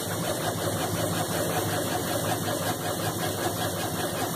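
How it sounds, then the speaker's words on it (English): A steady mechanical hum and whir of a laser engraver and its water cooler running while engraving a glass tumbler, constant and close, with a faint high whine and no talking. "Sorry about the noise, but it's the water cooler for the laser and the laser itself."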